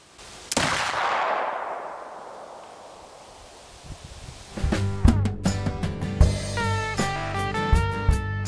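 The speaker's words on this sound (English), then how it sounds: "we're going to load and shoot a muzzleloader." A single shot from a CVA Wolf .50 caliber muzzleloader rifle, fired outdoors: one sharp, loud blast followed by a long rumbling decay, then music begins a few seconds later.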